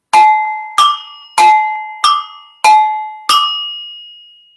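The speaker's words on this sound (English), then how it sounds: "this is called the agogo bells" Agogo bells are struck six times at a steady, moderate pace, each hit a bright metallic ring that decays slowly, alternating between the lower and higher bell, close and clear with no talk.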